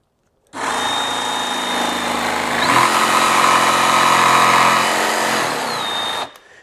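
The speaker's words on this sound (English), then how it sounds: "As soon as it ramped up, that blower is going to obviously blow about as fast as the motor does" Ryobi barrel grip jigsaw with its dust blower switched on, motor running steadily and close, ramping up louder midway with a rising whine before settling back and stopping abruptly; no talk.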